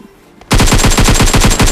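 Automatic weapon fire from the Free Fire mobile game rattles out as a loud, rapid burst of evenly spaced shots after a short quiet lead-in, up close and without talk.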